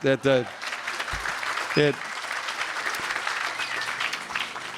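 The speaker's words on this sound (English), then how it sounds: "Give him a round of applause for that." An audience at an Armed Forces Day ceremony in a village hall applauds with steady, moderately distant clapping for several seconds, following a few words from a speaker at the start.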